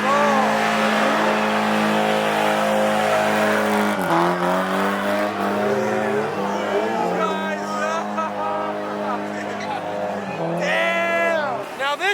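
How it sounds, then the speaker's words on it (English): McLaren 750 sports car accelerating hard at a street gathering, a loud engine howl rising through several gear changes with rapid pitch sweeps, close and dominant, with tire noise and a rowdy crowd in the background. "Nice little McLaren 750."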